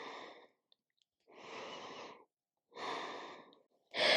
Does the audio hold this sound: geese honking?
no